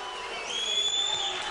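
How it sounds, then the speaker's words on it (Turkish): At a mixed fight gala in Darmstadt, a crowd gives the fighter Yahya steady, even applause that swells slightly midway, with a thin whistle-like tone running through it. "Alkışlar Yahya'ya sevgili izleyiciler."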